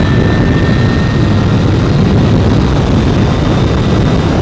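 A 2014 Brammo Empulse R electric motorcycle accelerating hard through its gears, heard as a loud, steady whine with strong wind roar over low rumble, two thin rising tones running throughout and no pauses.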